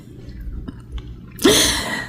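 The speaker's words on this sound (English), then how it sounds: "I had to pause to sneeze" After a quiet stretch with small breaths, a person lets out one abrupt, loud sneeze near the microphone, ending in a short trailing burst.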